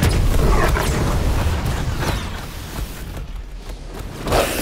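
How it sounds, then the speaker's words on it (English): Fireworks going off in the video game NEO: The World Ends With You, a dense wash of booming bursts and crackle that rumbles continuously, thins slightly, then swells with another burst at the end. "They're shooting off fireworks!"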